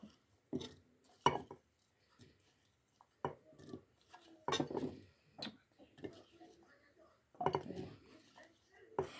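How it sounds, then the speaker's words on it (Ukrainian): Several dull knocks and clatters of potatoes tumbling into a small clay pot, spaced irregularly, with quiet talk in between. "І кидаю картошку."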